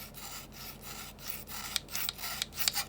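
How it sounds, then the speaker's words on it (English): The focusing ring of a Konica C35 film camera gives a dry, gritty grating as it is turned back and forth in repeated short strokes. It is close and fairly quiet, with no voices. "my focusing ring makes some kind of grating noise"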